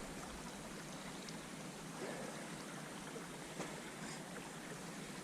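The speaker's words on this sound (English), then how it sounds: "Is the sound of the water making you want to go pee yet" A stream flows steadily during a quiet outdoor nature walk, a soft continuous rushing of water heard from nearby at low level with no talk over it.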